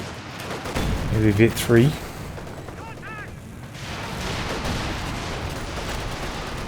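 A Walking Stuka rocket launcher firing in Company of Heroes 2, a booming salvo with rushing, whooshing rocket launches, while a player speaks over the battle noise.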